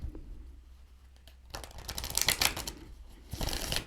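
Cards riffle and flutter in a quick burst, then another shuffle follows, close and crisp against a quiet background.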